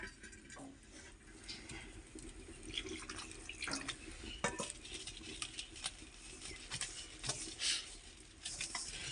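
Water added a little at a time to spiced flour for onion naan, with soft pattering splashes and wet dripping as the dough is mixed, steady and close with no talk.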